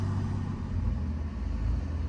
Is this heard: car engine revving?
yes